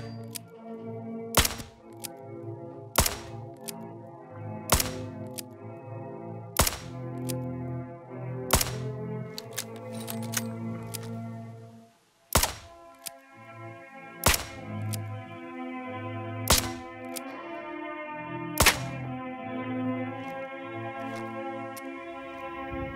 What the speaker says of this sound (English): The rifle has a pretty fast fire rate and reload time, helping me clear rooms at a solid pace.